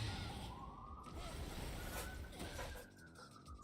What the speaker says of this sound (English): No, that's an ambulance.